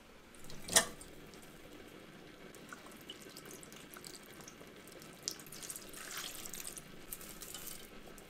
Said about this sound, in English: add a splash of vinegar and water to our high bush cranberry and hot pepper jelly